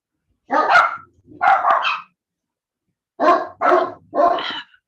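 Small dogs bark close by in two quick bursts, two yaps and then three, with a short silent gap between them.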